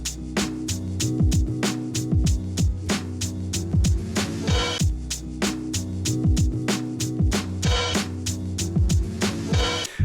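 A sampled drum beat plays on a Roland SP-404 sampler, with some snare hits swapped for other sounds. It runs as a steady looped pattern of punchy kicks and crisp hits over a low, bassy bed.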